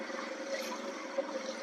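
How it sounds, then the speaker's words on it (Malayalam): A boat passes on a backwater at night, a faint, steady engine hum with watery hiss, distant and unbroken for the whole moment. "ആ ബോട്ട് വരുന്നുണ്ട്"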